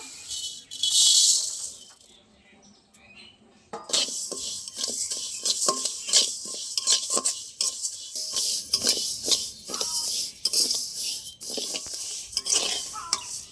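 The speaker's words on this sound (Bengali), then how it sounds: "বাকি চালগুলো একই রকমভাবে ভেজে নেব।" Rice dry-roasted in a pan for a festive Bengali sweet is stirred and scraped, giving a steady run of close, rhythmic clinks and rustles after a quieter opening.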